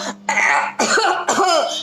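A person coughs loudly and theatrically in three forceful bursts, each a rough, raspy hack with a short pause between, close and alone.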